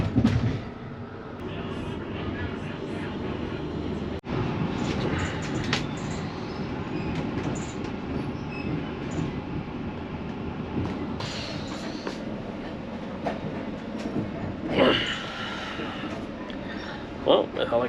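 A train in Iraq rumbles steadily along the rails with a low continuous drone, occasional clanks and rattles, and a few louder bumps; no clear talk stands out.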